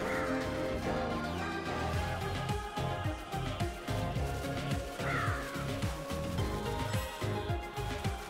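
Crows caw repeatedly in the video game Astro Bot, a dense series of harsh, rhythmic caws layered over busy game music and effects, loud and continuous throughout.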